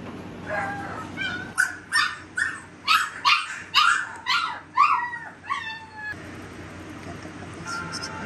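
Young puppies shut in a crate with toys let out a run of high yips, short barks and whimpers, roughly one every half second, close and fairly loud, before settling into quieter whines.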